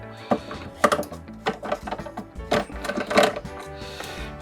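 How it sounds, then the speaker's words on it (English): Screws being unscrewed from the casing of a Makita site radio with no power, giving a series of sharp mechanical clicks and rattles with brief gaps, close and fairly loud, with no talk. "First thing we're going to do is just take these two screws out of here."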